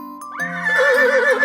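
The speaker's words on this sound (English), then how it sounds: "horse" A horse neighs loudly and close by, a rising whinny that shakes and trembles as it continues, heard alone.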